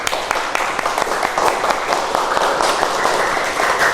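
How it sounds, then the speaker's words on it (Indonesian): A classroom of students claps continuously, a dense patter of hands with voices mixed in. "tepuk tangan untuk kita semuanya"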